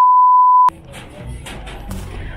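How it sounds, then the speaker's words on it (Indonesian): A telephone gives a single steady electronic tone lasting under a second. It cuts off abruptly into faint rustling room noise. "Ada telepon."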